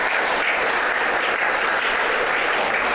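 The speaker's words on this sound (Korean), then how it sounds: "박수 쳐도 됩니다" Church congregation applauding during a Sunday sermon, a thick, steady roar of many hands clapping at an even level for about three seconds with no talk over it.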